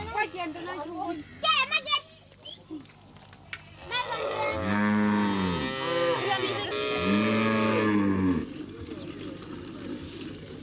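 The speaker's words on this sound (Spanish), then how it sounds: "Las mujeres van a ordeñar las vacas." Cattle low in long, drawn-out moos at close range during milking by women in rural Namibia, with children's voices and other chatter heard briefly before the lowing.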